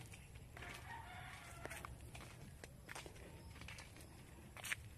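Faint clucking from chickens with occasional crowing, mixed with soft footsteps and rustling nearby.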